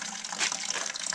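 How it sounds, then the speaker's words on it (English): Water bubbling and gushing while the boiler of a 1914 Stanley Steamer Mountain Wagon is filled, a steady close churning wash with brief surges, heard alone. "I hear the bubbling"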